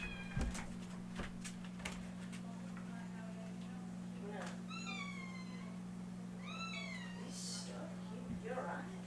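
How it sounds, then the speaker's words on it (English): A house cat meows several times in the background, with drawn-out calls rising and falling over a steady low hum and a voice talking throughout. "I keep hearing my cat mowling in the back."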